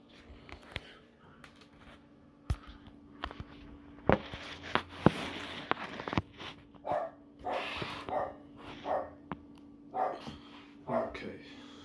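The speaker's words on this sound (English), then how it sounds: "I really do apologize for that dog" An uncle's dog, not the owner's, barks repeatedly with sharp, uneven barks and yips at moderate distance, while a person talks over and between the barks indoors.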